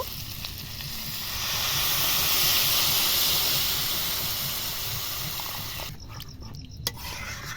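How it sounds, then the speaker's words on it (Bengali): Water poured into a hot pan of sautéed potato and pea ghugni sets off a loud, steady steaming hiss that swells and slowly fades, with a few faint clinks near the end. "আলু আর মটরটা দিয়ে আমি 5 মিনিট কষিয়ে নিয়েছি। এবার জল দিয়ে দেব।"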